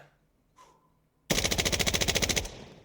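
A burst of fully automatic fire from an F2000 rifle in the shooter game Insurgency Sandstorm: about a dozen rapid, evenly spaced loud shots over roughly one second, preceded by faint handling clicks and followed by a short echoing tail.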